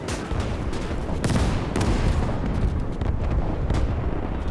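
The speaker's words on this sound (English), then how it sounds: "another artillery strike coming in against those elite units" An artillery strike pounds elite units in Gates of Hell, a World War II strategy game. Loud, continuous rumbling explosions and crackling blasts overlap with no pause.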